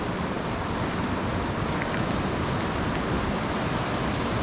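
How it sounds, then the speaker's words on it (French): A large river rushes in a steady, dense roar that stays loud and unbroken, heard from nearby with no voices over it. "Là, on entend une grosse rivière"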